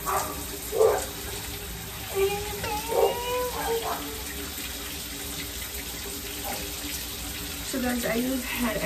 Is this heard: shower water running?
yes